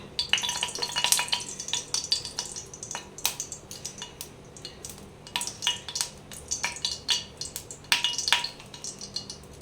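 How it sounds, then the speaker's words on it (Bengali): Prawns frying in oil in a wok, with a low background sizzle under frequent sharp clinks and scrapes of a utensil against the pan in irregular clusters, close and clear, no voices. "এই দেখুন, চিংড়ি মাছটা ভেজে নেবে।"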